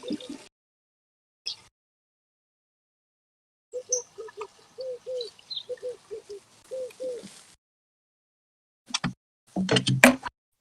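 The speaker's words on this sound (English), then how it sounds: "I can hear pigeons cooing." Pigeons cooing near a live voice-chat microphone: a run of soft, evenly spaced coos, fairly faint, with a few short knocks and noises before and after.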